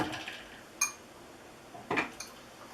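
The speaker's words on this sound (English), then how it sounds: "So first, we take the lid off." A plastic lid lifts off a Vitamix or Blendtec blender jar, giving a short knock and then a scraping clatter near the end against a quiet room.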